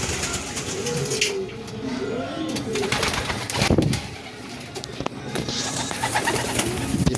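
Racing pigeons coo in low, soft, rolling calls that repeat close by, with occasional rustling and faint background noise.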